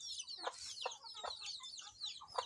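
Chickens on a small urban farm in Kampala, Uganda, cluck in a series of short, close, fairly quiet calls repeating at a steady pace.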